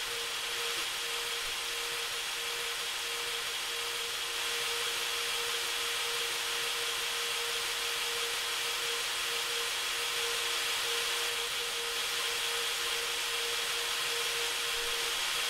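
A drill running on a bomb in a video game gives a continuous, steady, high-pitched whirring whine that holds at an even level throughout.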